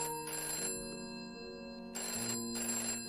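A telephone rings with an incoming call in a hotel setting, two bursts of electronic ringing separated by a pause, fairly loud and close with no talk over it.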